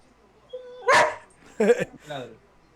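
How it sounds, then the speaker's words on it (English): A young pet dog barks indoors in three sharp, close barks spaced about half a second apart, loud against a quiet room. "he'll just start barking for no reason while I'm streaming"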